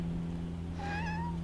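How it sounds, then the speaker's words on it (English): A neighbor's cat gives a single short rising meow, close and clear over a steady low indoor hum. "And then we have yet another cat."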